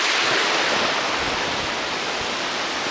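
A small, clean mountain stream in the Swiss Alps, on a descent from the Schilthorn toward Lauterbrunnen, flows in a steady broadband rush. The sound is close and constant, with no voices.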